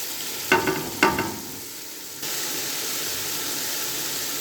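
Masala spices sizzle in a hot pan with salt, turmeric, red chilli, black pepper, cumin and coriander, with a couple of sharp clinks near the start before a steady frying hiss fills the rest.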